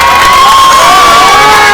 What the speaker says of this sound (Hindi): तालियां होनी चाहिए इसके लिए